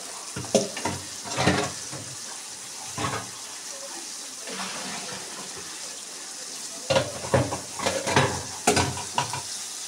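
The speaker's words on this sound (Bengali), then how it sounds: "এটাকে কিছুক্ষণ ভালো করে ভাজতে হবে, যাতে কাঁচা গন্ধটা না থাকে।" Spice paste of ginger, garlic and cumin frying in a pan, with soft sizzling under repeated scraping stirs, some intermittent clinks and a faint trickle of water, close and moderately quiet.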